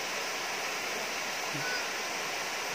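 A steady, broadband rush of falling water fills the whole clip, constant and even like a nearby waterfall, with no other distinct sounds.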